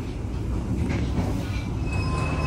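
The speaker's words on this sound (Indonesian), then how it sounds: "Ini kita lagi berhenti di stasiun Kalisat teman-teman." Economy class train of the Sri Tanjung service standing at Kalisat station, a steady loud low rumble and hum of the railcar with faint high squeals, and no one talking.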